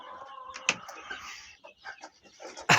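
Brahma chickens and chicks in a coop cluck and cheep close by, a scatter of short calls with a few sharper squawks and brief rustling in between.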